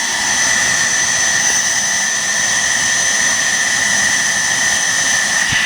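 A 2009 Bissell Healthy Home 2nd Gen upright vacuum cleaner, model 16N5, runs continuously with a loud, even motor roar and a high, steady whine, close up and without voices.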